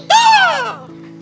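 A single loud, harsh crow caw rings out close by, falling in pitch as it fades, over a low steady background hum.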